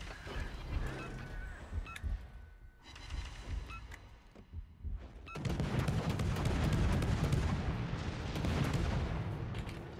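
Naval gunfire from World of Warships, with a Yugumo destroyer nearby: several sharp cannon blasts ring out early, then a dense, loud sustained roar of explosions and shelling fills the second half.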